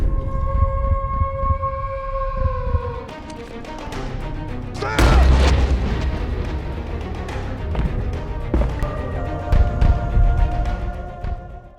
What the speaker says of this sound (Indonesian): terjadilah aksi saling menembak antara Red Mountain dan para warga kampung anak buah Amahle